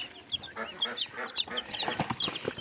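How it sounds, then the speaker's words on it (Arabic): Baby chicks of a local farm breed cheep in thin, high, repeated chirps close by, with a few lower clucking calls mixed through the short stretch. "كتاكيت زي الفل بسم الله ما شاء الله اهي"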